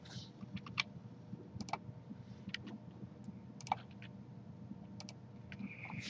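Computer mouse clicks while deleting geometry in CAD software, drawing a sprocket: a series of faint, sharp clicks scattered irregularly over a low background hum, some in quick pairs.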